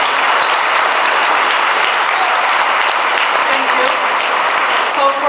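Big audience applause in a hall in Rijswijk, Netherlands, welcoming a professor onto the stage: dense, sustained clapping at full volume, with faint voices underneath.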